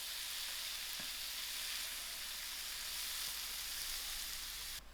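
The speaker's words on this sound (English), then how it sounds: "I'll give this prawns a quick fry." Prawns fry in a hot pan for an easy prawn fettuccine, giving a loud, steady, close sizzle with a few faint stirring taps and no voices.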